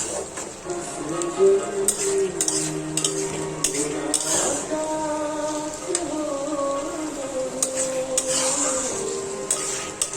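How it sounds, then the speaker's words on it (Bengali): Goat liver being fried and stirred in a pan with bean seeds and potato, a steady sizzle broken by repeated scrapes and clinks of a utensil against the pan, close and continuous throughout. "খাসির কলিজা ভুনা হচ্ছে, সিমের বিচি আর একটু একটা আলু দিয়েছি"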